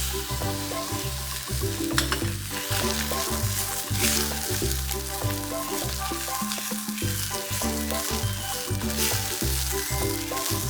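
Fish dusted with wheat flour fries in a pan, a constant close sizzle and crackle with repeated clatters and scrapes of stirring, with no talk over it.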